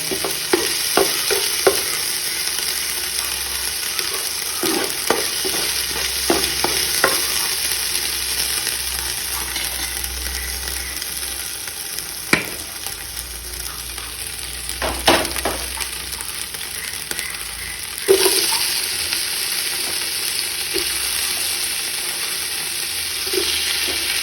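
Crushed ginger, garlic and tomato frying in a pan for chicken biryani, a steady close sizzle with frequent clinks and scrapes of a spoon stirring, no voices over it.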